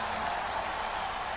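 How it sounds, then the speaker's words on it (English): A crowd-cheering sound effect: a short, steady wash of distant crowd roar and applause with no distinct voices. "And the crowd goes wild!"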